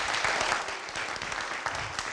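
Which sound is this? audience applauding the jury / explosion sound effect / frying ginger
audience applauding the jury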